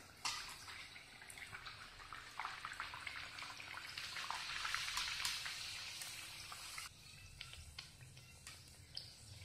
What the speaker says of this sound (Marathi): आता आपलं तेल गरम झालेलं आहे, आपण त्याच्यात ह्या पुऱ्या सोडून तळून घेणार आहोत